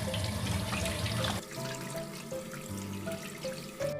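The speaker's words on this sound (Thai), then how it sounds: "ล้างทำความสะอาดให้เรียบร้อยก่อนนำไปนึ่งค่ะ" Running tap water pours over a sea bass as it is rinsed clean in a sink, a continuous splashing stream that shifts in tone as the fish is moved, close and steady.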